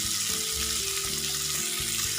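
Prawns sizzle steadily in hot oil in a pan during a stuffed tomato dish, a dense continuous crackle with a few faint clinks, no talking.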